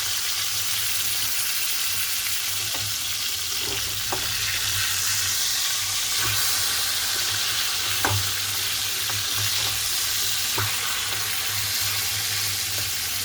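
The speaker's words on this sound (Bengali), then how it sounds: "মাছটা আমি ঢাকা দিয়ে বোথ সাইড 2 থেকে 3 মিনিট করে ভেজে নেব।" Fish fries under a lid in a covered pan, giving a steady, even sizzle with soft crackles and occasional pops. It stays moderately loud throughout, with no talking.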